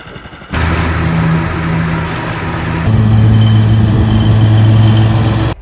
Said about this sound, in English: I'm in the tractor